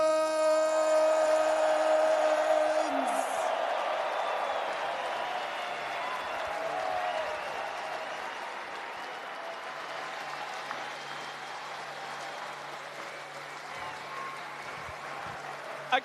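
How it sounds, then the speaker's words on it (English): A large esports arena crowd applauds the TI 2025 Dota 2 champions Team Falcons, a broad sustained wash of clapping and cheering that starts beneath fading music tones and holds steady to the end. "can we celebrate in this moment and make one more round of applause for your TI-14 champions"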